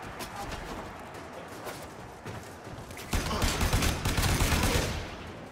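Gunfire from a Voltor gun in Warframe, rapid continuous bursts of shots crackling over a busy combat background, growing louder and denser in the final two seconds.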